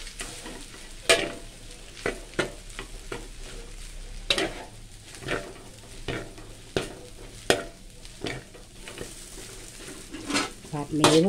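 Yellow mee sua noodles stir-fried in a wok, a soft continuous sizzle punctuated by repeated sharp scrapes and clacks of the spatula tossing the noodles, close and fairly quiet.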